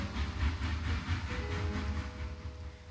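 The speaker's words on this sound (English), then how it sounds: "Oh, there's the train." Train in the surrealist video game SURREALISTa, a steady rumbling roll with hissing and faint rhythmic clatter, loud and continuous without talk.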